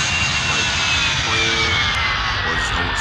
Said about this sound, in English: this is called the taxi. We're taxiing.